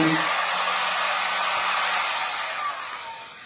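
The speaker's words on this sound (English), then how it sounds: "My Makita heat gun." A Makita heat gun runs steadily for wax work, a loud continuous broadband blowing roar close by that holds level and eases off slightly toward the end, with no talk.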